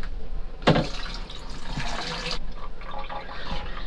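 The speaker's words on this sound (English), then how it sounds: "we're gonna go ahead and dump this into the gray tank" Water poured and dumped down a drain into the gray tank of a 2019 Winnebago Navion 24D RV during fresh water system sanitizing, a steady close rushing gush with a sharper splash near the start.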